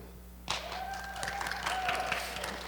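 A church congregation breaks into clapping during a Sunday service, starting abruptly after a quiet moment and continuing as scattered, moderately distant applause with a few cheers.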